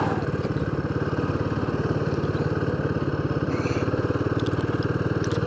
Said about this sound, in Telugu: ఫస్ట్ టైం మన అడ్వెంచర్ బైక్ మీద అలా వస్తాం బీచ్ మీద.